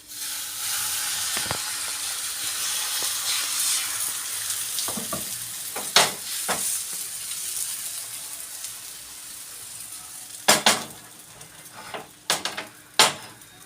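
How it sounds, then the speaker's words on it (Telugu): Bread omelette mixture frying in hot oil in a pan, giving a steady, close hiss of sizzling with a few sharp clinks and scrapes of a utensil near the end. "ముందుగా కలిపి పెట్టుకున్న ఆమ్లెట్ని ఇలా వేసుకోవాలి"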